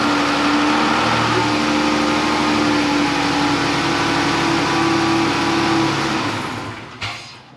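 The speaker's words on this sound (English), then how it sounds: "turn the car on for a few seconds" A car engine idles steadily just after a fresh fill of five quarts of synthetic oil, a constant drone with a low hum, running alone before cutting off near the end.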